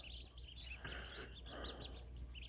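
Baby ducklings in a box on a bed give a steady run of high, thin peeps and chirps, close and fairly faint over a low background hum, with no talking.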